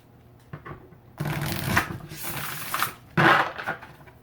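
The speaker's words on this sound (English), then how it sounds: "Oh, I love when the deck shuffles." A deck of cards is shuffled up close in two quick riffling bursts, with softer handling sounds between them.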